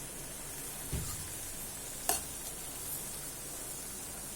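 Tomato and radish sautéing in sesame oil in a pan, a soft, steady sizzle with a couple of brief utensil knocks and a clink.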